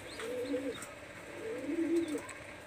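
Pakistani highflyer teddy pigeons cooing close by, two soft throaty coos a second apart with light chirps around them.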